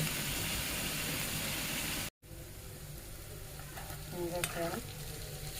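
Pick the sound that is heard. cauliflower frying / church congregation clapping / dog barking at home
cauliflower frying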